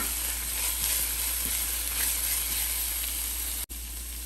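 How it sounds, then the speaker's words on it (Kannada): Masala sizzling steadily in a pan while cooking vegetable kurma, a continuous close frying hiss with light stirring and no speech. "ಇದು ಹಸಿ ವಾಸನೆ ಹೋಗೋಕ್ಕಂತ ಸ್ವಲ್ಪ ಫ್ರೈ ಮಾಡ್ಕೊಳ್ಳೋಣ."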